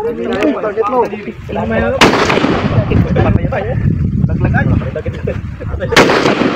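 Rifle shots ring out at an Army Reservist marksmanship training range, two sharp loud cracks about four seconds apart, each followed by a rumbling tail, with people talking and shouting commands throughout.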